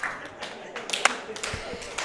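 Spectators at the 2019 Spokane 9 Ball Open pool finals clap in scattered, uneven bursts that sound moderately close, with voices talking over them.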